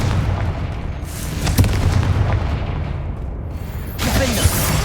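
The Confringo blasting spell in Hogwarts Legacy sets off booming explosive bursts with sharp cracks, a loud rumble that dips and then flares again near the end.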